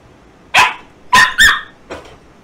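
A puppy barks close by in four sharp, high yips, two spaced apart and then a quick pair, ending with a softer fourth bark against a quiet room.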